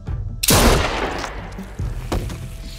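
A single loud, close gunshot goes off in The Walking Dead video game and echoes into a long rumbling tail, with a few fainter thuds after it.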